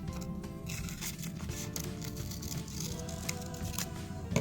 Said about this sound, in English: If not, you can just cut it